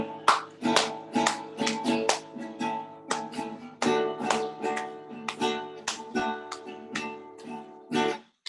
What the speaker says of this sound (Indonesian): Semuanya tepuk tangan ya